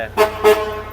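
Two quick toots of an Isuzu D-Max pickup's horn in close succession, loud and nearby, over a low engine rumble.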